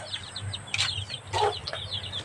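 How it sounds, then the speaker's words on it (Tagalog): A chicken clucks a few times at close range over a low background hum, while it scratches and forages at the ground. "Yung manok ko dito, mahilig magkalkal-kalkal."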